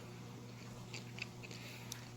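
Several sharp, crisp crunches from close-up chewing of dehydrated figs, spaced irregularly over a low steady hum, with no talking.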